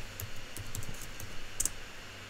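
Soft, close key clicks from a computer keyboard during CAD drafting work, a few irregular taps spread over two seconds, one pair slightly sharper, over a low steady hum.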